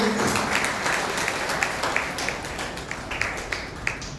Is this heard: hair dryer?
no